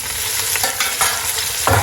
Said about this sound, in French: Je vais faire saisir de chaque côté au moins 3 minutes.